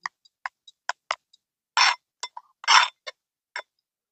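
A spoon clinks against a bowl while stirring a homemade aloe vera neem face wash, a series of sharp separate taps with two longer scraping swishes, close and fairly quiet.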